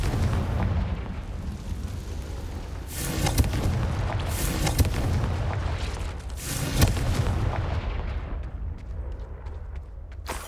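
Confringo fire spell explosions in Hogwarts Legacy, heavy booming blasts with rumbling low-end bursts over a constant background of game ambience, two or three big impacts spaced a few seconds apart.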